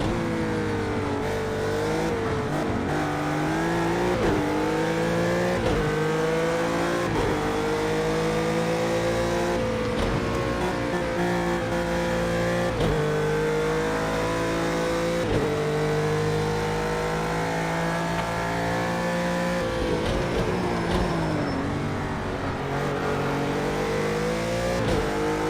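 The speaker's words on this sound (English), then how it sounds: "great sounding car, but even though Jan Dane doesn't like the sound of the clunky gearbox" Loud car engine revving and accelerating continuously, race-car style, with audible gear changes from a clunky gearbox shifting the pitch up and down; no talking.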